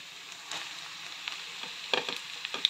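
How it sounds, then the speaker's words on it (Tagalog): Pork innards for paklay hit a hot pan and sizzle steadily, a continuous frying hiss with scattered pops and spatters, fairly close and unaccompanied by talk. "Ngayon, idadagdag natin ang ating mga lamang loob."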